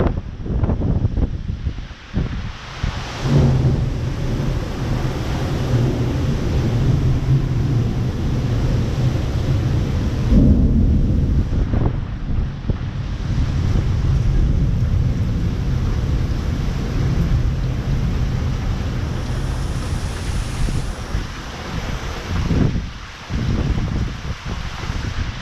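Gusts from a severe wind storm roar and buffet the microphone in long, surging waves of rumbling noise, rising and easing over about twenty-five seconds, with no voices.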